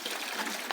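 Water runs from a garden tap in a steady, close splashing trickle with no voices over it.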